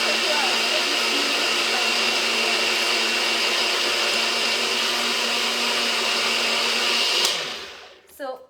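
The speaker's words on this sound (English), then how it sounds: "So you put your smoothie mix, I'll put the recipe in my cheap blender" A cheap blender whirs loudly and steadily while blending a protein smoothie mix, then cuts off abruptly near the end, followed by a brief clunk.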